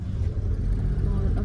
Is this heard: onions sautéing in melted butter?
no